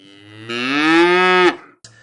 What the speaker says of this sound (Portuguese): uma vaca brasileira da raça Nelore, nascida em Goiás